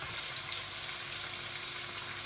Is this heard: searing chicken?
yes